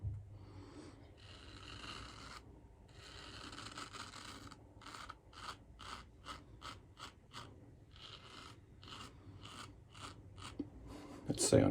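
A safety razor scraping across a lathered face during a wet shave, a series of rough, rasping strokes, long sweeps at first and then short rapid bursts, close and fairly quiet, with no talk.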